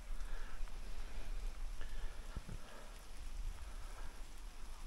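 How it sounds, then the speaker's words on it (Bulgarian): Rain falls steadily near a rock sanctuary in a mountain meadow, a dense constant patter with a low rumbling undertone throughout, with no voices. "За да се усилва дъждът"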